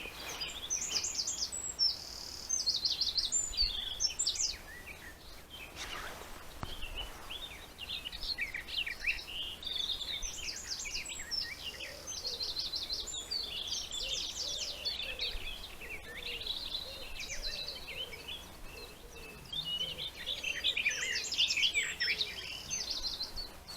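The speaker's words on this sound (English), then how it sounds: "Looks like we've got a couple of garden warblers competing." Warbling song of two garden warblers in long rapid phrases, one nearer and another answering faintly in the distance across a fen, continuing throughout with quiet gaps; no voices.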